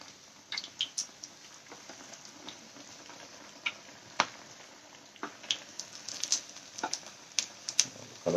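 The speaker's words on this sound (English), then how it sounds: "So this will fry on side" Cottage cheese and cumin rice arancini deep frying in oil: steady low-level sizzling and crackling, with scattered sharp pops and spits throughout; no voices.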